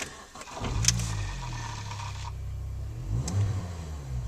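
Cabin of a BMW Mini Cooper R50 fitted with a stainless steel sports exhaust, a low engine drone and exhaust hum rising with a brief rev, fairly quiet and steady inside the car with stereo and fan off.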